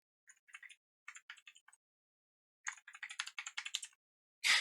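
Fast typing on a computer keyboard in a quiet room, with two short clusters of keystrokes, a pause, then a longer burst of clicks ending on a louder keypress.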